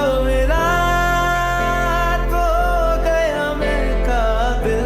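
An AI-generated song sung by a voice plays loud and continuous, with the vocal melody over a full, sustained backing mix.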